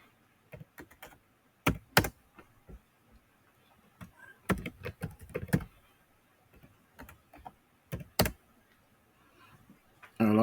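Password being typed on a computer keyboard while logging into a server, heard as scattered clusters of close, sharp key clicks with pauses between bursts.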